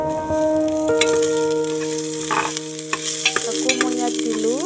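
Chopped vegetables frying in a pan for khichdi are stirred, giving a close, continuous sizzle with scraping spoon strokes and clinks throughout.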